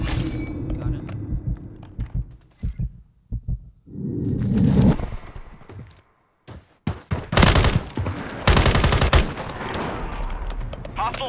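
Remote turret firing in Call of Duty: bursts of rapid automatic gunfire come in separate loud volleys with short pauses between them, set against game noise.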